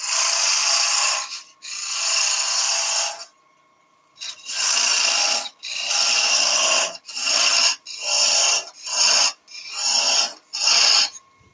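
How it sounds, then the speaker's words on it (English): A parting tool cuts deeper into a wooden egg cup spinning on a wood lathe, giving loud, harsh scraping bursts of a second or two, repeated about eight times with brief pauses between passes. No speech. "We'll go down a little bit deeper now with the parting tool."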